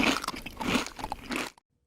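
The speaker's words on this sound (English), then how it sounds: "It's just the sound of the worms chewing on your legs." Crunching, gnawing sound effect of worms chewing on legs, a dense burst of wet crackly bites and scrapes, close and loud, cutting off abruptly into silence.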